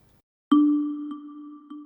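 A synthesized kalimba tone plucked once after brief silence, ringing with a clear sustained pitch, followed by two softer repeated plucks as it fades.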